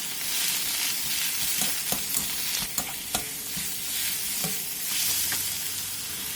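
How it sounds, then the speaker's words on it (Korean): Washed aged kimchi with sugar and minced garlic stir-fried over high heat in an oiled pan, giving a steady sizzle broken by sharp clacks and scrapes of a utensil against the pan. "팬에 기름을 두른 뒤 씻은 묵은지와 설탕, 다진 마늘을 넣고 센 불에서 볶다가"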